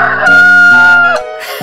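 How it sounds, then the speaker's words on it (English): A rooster on a farm crows one long, loud cock-a-doodle-doo, close and strident, its held note trailing off into a brief clucking tail. "A rooster in a farm sounds like an alarm"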